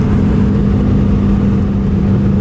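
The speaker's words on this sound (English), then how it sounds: "this car, I don't know if you can hear it, but it sounds pretty dope" A steady, loud engine of a 1,500 hp twin-turbo rear-wheel-drive car idles and rumbles with a low, throaty drone, holding constant without pauses or voices.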